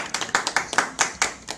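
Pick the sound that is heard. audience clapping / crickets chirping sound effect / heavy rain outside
audience clapping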